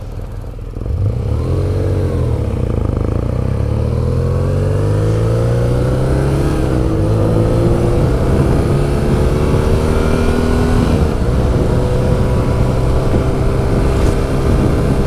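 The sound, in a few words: 2018 BMW Urban GS motorcycle riding at speed, opposed twin engine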